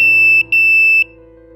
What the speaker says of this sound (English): The 5 indicates the duration of each beep to be 500 milliseconds.